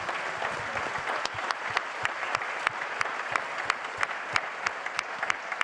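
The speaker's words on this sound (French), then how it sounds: "Regardez, ils vont vous le montrer, ils vous applaudissent." The French team applauds the audience at an evening event, loose rhythmic clapping from a modest group with distinct individual claps standing out, fairly close and steady.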